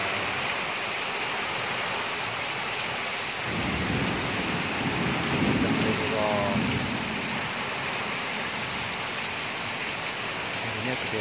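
Heavy rain with strong wind and rumbling thunder, a steady loud roar of downpour with a low thunder rumble swelling in the middle, continuous throughout.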